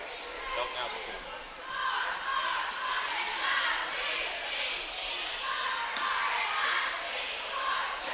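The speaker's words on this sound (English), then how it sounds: "Very good crowd on hand tonight for East Carter." Crowd noise fills a high school boys basketball gym during an East Carter versus Morgan County game, a steady roar of cheering and shouting that swells and holds through the timeout with no clear talk on top.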